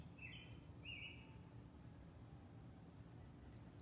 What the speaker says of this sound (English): you can listen to the sounds of the birds